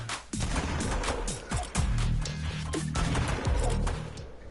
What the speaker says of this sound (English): I love how whenever you get a headshot with this revolver.